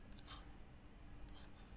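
A computer mouse gives two quick pairs of faint, crisp clicks while working in Siemens NX software, set against a quiet room hum.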